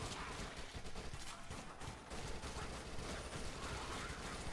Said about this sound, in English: Oh, I'm shooting the wrong way.